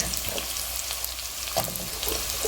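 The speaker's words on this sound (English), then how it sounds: "Now I am adding the whole garlic." Whole garlic cloves, about ten, frying in hot oil in a pan for a Tamil pepper garlic curry, giving a steady close sizzle with faint crackles throughout and no talking.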